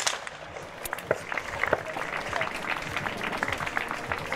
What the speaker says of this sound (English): Round of applause from the crowd.